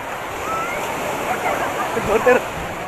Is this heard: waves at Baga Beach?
yes